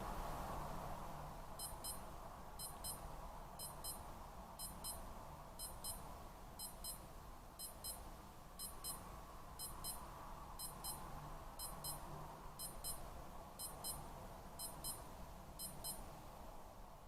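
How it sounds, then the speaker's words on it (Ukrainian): A Skmei 1988 digital wristwatch timer emits a long series of evenly spaced high, thin beep bursts, about fifteen in a row, over steady background hum. "таймер видав 15 сигналів і потім замовк"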